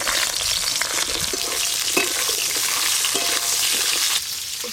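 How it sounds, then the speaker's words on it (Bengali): Drumstick pieces sizzle steadily in hot oil, a dense crackling hiss with occasional sharper pops and stirring scrapes, close and loud throughout without any voices. "এবার সজনে ডাঁটাগুলো ভেজে নেব।"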